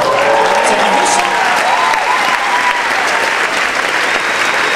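Applause fills the hall at a Quebec awards show after a film-music winner is named, a thick sustained clapping crowd with a faint melodic tone and a voice running underneath.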